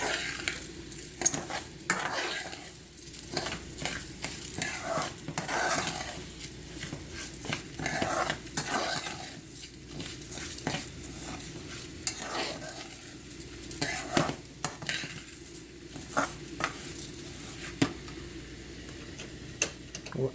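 Steady sizzling of rice and onion frying in oil, punctuated by repeated scraping and tapping of a utensil stirring in a pan.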